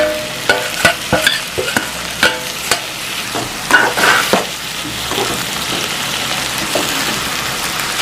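Onions and tomatoes fry in a pan for an old-style dried fish curry, giving a steady close sizzle broken by sharp stirring scrapes and clinks during the first half, with no voices.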